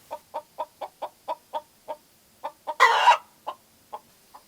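Hens clucking in Georgia countryside with no rooster present, a close, rhythmic series of short clucks, one of them breaking briefly into a louder, rougher squawk before the clucks continue and trail off.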